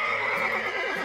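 A person imitates a horse neigh with the voice in a Turkish comedy scene, a single sustained whinny-like call lasting about a second, close and fairly loud with no other sounds.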